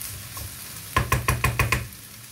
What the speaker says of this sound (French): on mélange bien et on laisse cuire